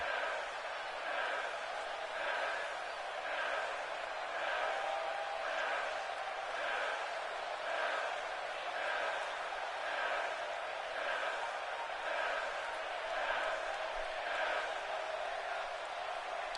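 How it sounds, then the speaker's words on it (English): A wrestling event crowd roars steadily throughout, with a rhythmic pulsing chant rising and falling about once a second, loud and sustained with no break. "Christian Hart getting the crowd rolling, getting them a little ramped up, amped up, electrified"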